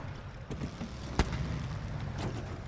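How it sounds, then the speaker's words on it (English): Low, steady idle rumble of a truck engine in the video game SnowRunner, continuous and even, with a sharp knock midway through. "The engine sounds like it's idling."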